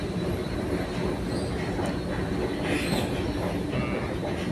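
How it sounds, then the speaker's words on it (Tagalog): Steady rumble of a subway train running underground in Canada, with broadband roar and faint rail squeal above it, loud and continuous with no voices. "Dito kami sa tren, ilalim ng lupa."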